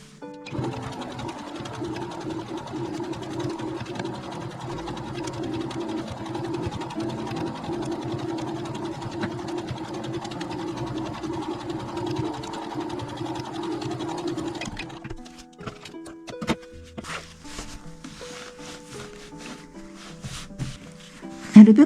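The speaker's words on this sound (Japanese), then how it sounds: "ミシンで縫っていきます。" A sewing machine quilts layered top fabric for a pouch, its steady continuous whir running close and even for about fifteen seconds before stopping, followed by scattered handling clicks and brief movement sounds.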